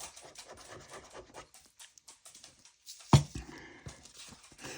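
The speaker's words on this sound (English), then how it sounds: "Now, my little pup gets really mad because I'm not playing ball with her right now." A small pet dog makes scattered scrabbling, panting and clattering noises while demanding a ball game, with one sharp loud knock or bark near the end in an indoor room.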